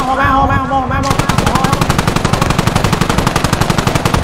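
Rapid automatic gunfire at a vehicle in the video game Squad rattles in a fast, steady burst, loud and close, following a moment of game-like tones and a brief voice.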